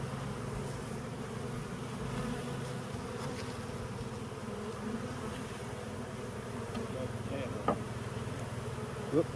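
Swarm of honey bees buzzing steadily and densely throughout while being transferred from a swarm trap into a hive box, a continuous close drone with a couple of brief knocks near the end.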